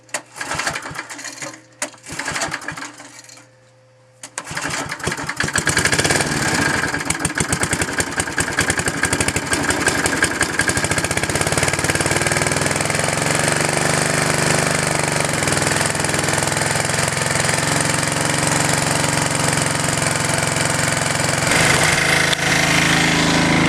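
A generator engine fuelled by small dead branches and sticks cranks and sputters, then settles into a loud, steady, rattling run close by that continues unbroken with no voices.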